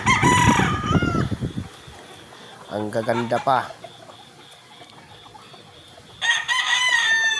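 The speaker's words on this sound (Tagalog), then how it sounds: "puntahan yung mga pang derby na manok. Mga panabong talaga." Fighting roosters bred for derby cockfights crow and cluck close by, one crow rising in the middle while a person talks briefly at the start and end.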